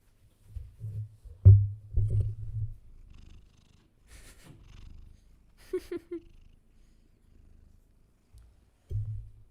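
A house cat purrs close up in soft, rhythmic low bursts separated by quiet gaps, with a couple of faint higher chirps in between.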